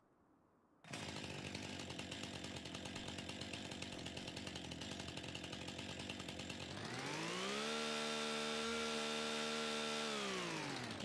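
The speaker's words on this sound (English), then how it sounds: "Chainsaw?" A chainsaw in the Farming Simulator game cuts through hedges, starting abruptly and then running with a steady buzzing drone that rises into a higher, louder, smoother whine partway through. It continues alone with no talk.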